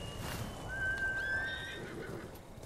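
A horse neighs in the video game Ghost of Tsushima, a single clear, nearby whinny rising and falling over a low ambient game background, with no talk.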